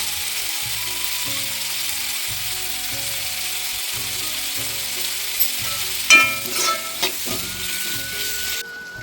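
Chopped onions with salt sizzle in a pan in a continuous, even frying hiss, with a few stirring clatters and scrapes near the end.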